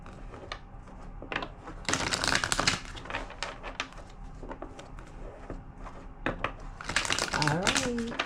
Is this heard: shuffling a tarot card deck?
yes